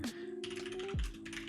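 Rapid typing on a computer keyboard during online typing tests, dense clicking keystrokes close by over a steady electronic hum, with a brief low thump near the end.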